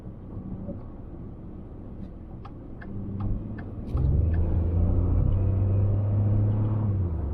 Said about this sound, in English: Looks like the tractor trailer guy is going around.